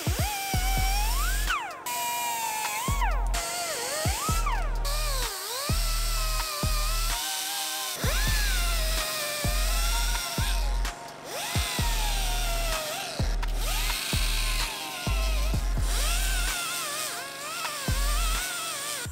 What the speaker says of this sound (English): I'm just gonna take a cutoff wheel, trim these mounts right off, and then an angle grinder to smooth them out